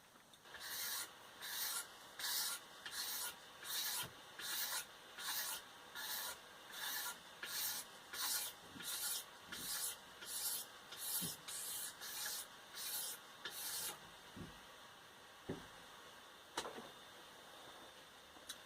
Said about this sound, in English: A Stanley blade and just scrape it out.